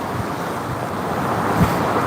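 Wind gusts buffet the microphone in a steady rushing roar, with a slight swell near the end and no voices.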